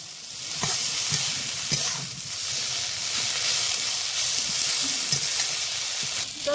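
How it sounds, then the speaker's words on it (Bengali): Onion, green chili and thankuni leaves fry in a pan with a continuous loud sizzle and hiss, broken by the scrape and clatter of stirring. No one talks. "পেঁয়াজ আর কাঁচা মরিচ একসঙ্গে হালকা একটু ভেজেছি"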